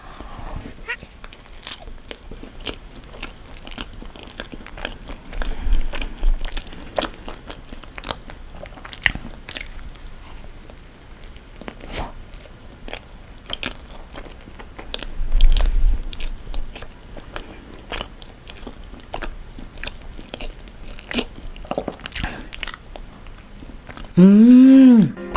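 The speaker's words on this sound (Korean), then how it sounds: "먹어보겠습니다." Crunchy bites and chewing of a chestnut, pumpkin and red bean bread, with scattered crisp crunches and louder bites near the middle, close up and without talk.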